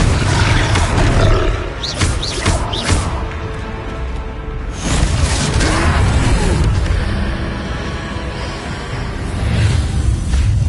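A troll in the video game Hogwarts Legacy roars loudly and deeply in repeated surges, mixed with crashing battle effects and whooshes.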